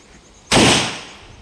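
A single loud gunshot at shooting practice cracks out suddenly and rings off in a decaying echo over about a second, with no talking.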